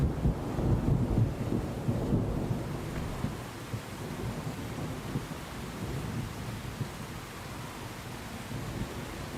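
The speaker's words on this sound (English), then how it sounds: "Now I changed it to the thunderstorm." Thunderstorm weather in the Assetto Corsa racing game, with a loud rumble of thunder at the start that fades into a steady hiss of falling rain and gusting wind.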